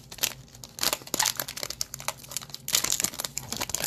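An NBA Hoops Premium Stock trading card pack wrapper crinkles and crackles as it is torn open. The noise is close, dense and continuous, with brief pauses between louder bursts, and no one speaks.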